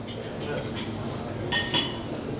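Wedding guests clink glasses during a toast: a few light, bright clinks over a murmur of room chatter and voices.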